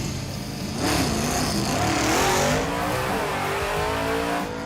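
A 1956 Chevy launches and accelerates down a drag strip, its engine roaring loud and close, climbing in pitch through the gears with audible shifts, then fading as it pulls away.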